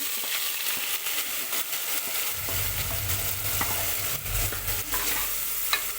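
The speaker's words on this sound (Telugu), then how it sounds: "ఇది మనకు పచ్చి వాసన పోయే వరకు వేయించుకోవాలండి" Ground onion and green chili paste frying in a pan for a mutton gravy crackles with a continuous close sizzle, broken by repeated stirring scrapes and clinks; no one talks.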